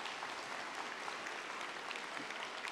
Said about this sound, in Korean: 여러분들은 뜨거운 박수로 맞이해 주시기 바랍니다.